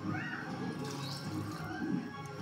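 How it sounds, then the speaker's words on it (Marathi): Water is poured into a thick egg curry mixture in a home kitchen for a Vidarbha-style anda curry, a steady splashing pour running through the whole short moment at close range. "मी याच्यात थोडंसं पाणी घालते।"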